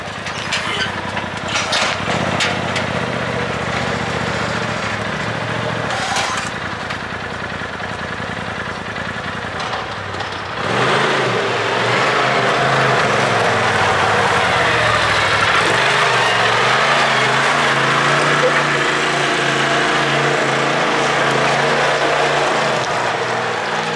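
A new Porsche Turbo S engine runs steadily and loudly, its broadband roar swelling into a stronger, fuller drone about halfway through with a low rumble beneath, no voices heard.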